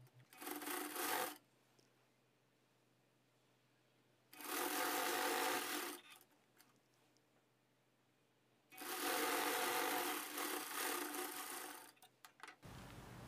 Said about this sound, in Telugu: స్టిచ్ చేస్తాను చూడండి